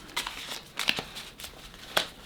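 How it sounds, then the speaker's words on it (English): A deck of playing cards for a tabletop game is shuffled up close, with several quick riffling bursts separated by short pauses. "You can shuffle it up."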